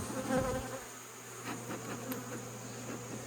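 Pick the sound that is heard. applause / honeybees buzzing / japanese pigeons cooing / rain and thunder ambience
honeybees buzzing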